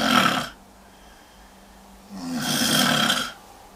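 An extreme snorer makes two loud, rasping snores, one breath cut off and then a long grating inhale, with a quiet pause between them and nothing else in the room.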